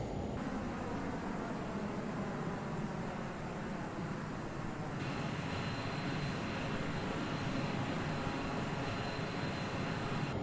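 A Learjet 35A taxis in a flight simulator game, its engines giving a steady, low-level roar with a thin, constant high whine throughout.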